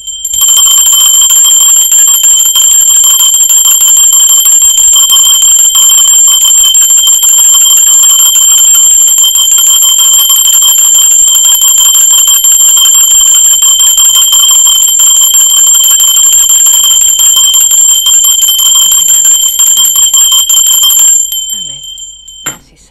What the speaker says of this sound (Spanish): ahora concéntrate que va a campana